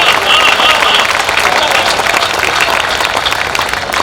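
Dense, sustained applause from a crowd at a Hindi kavi sammelan poetry recital, loud and continuous throughout, with voices mixed in.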